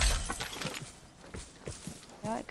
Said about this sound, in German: Ja, ich höre Schritte.